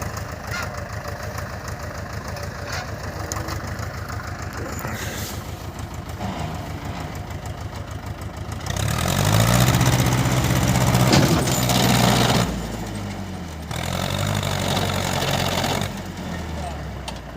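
A small, light tractor without four-wheel drive or differential locks chugs steadily nearby on peat ground, revving louder for a few seconds midway before settling back, with voices talking over it.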